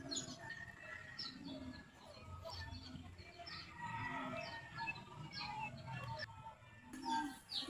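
Pigeons coo softly in a pigeon loft, low repeated throaty calls with faint chirps and rustling, fairly quiet and distant-sounding.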